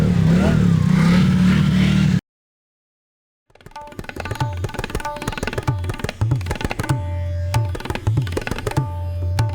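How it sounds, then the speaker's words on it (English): After a burst of noise and a brief silence, an engine starts up and idles roughly, with repeated revs and clattering close by. "let's fire up the engine."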